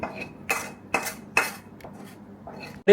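Fried shrimp being scooped into a bowl, with a few sharp metallic clinks of a utensil against dishware spaced about half a second apart, followed by quieter scraping and a final louder clatter.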